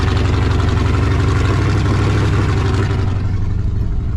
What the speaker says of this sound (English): my Suburban is running like crap